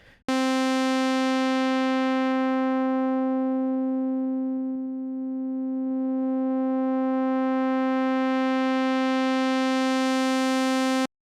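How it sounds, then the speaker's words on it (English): A steady buzzy sawtooth synth drone whose brightness slowly fades as the filter closes, then gradually opens again to full brightness before stopping abruptly. "Here's what subtractive synthesis does to a sawtooth wave."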